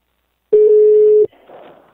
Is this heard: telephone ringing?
yes